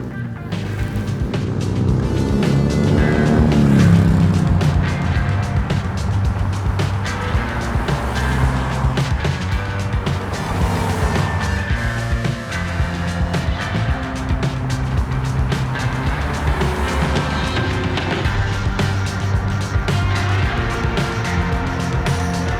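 A new-generation Toyota Camry sedan pulls away and drives on, its engine swelling briefly at the start before settling into a steady hum mixed with road and tyre noise.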